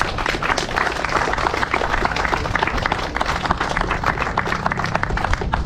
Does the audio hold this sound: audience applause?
yes